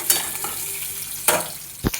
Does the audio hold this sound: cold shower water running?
no